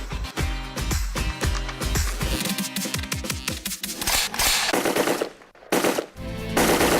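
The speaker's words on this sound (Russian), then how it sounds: "Из него сделано непрерывно 587 выстрелов." A Kalashnikov AK-74 assault rifle fires long continuous bursts of rapid automatic shots at close range, loud and sustained, with brief breaks near the end before firing resumes.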